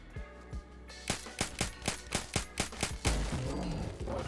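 A QBZ-191 rifle fired semi-automatically in Fallout 4 delivers about ten evenly spaced, punchy shots, preceded by a couple of softer clicks, ending in a heavier impact and rumbling aftermath.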